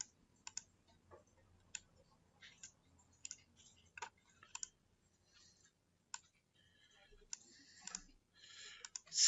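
A computer mouse clicks sharply and sparsely as a spreadsheet cell is grabbed and dragged to another position, quiet isolated clicks separated by near silence, with no talk.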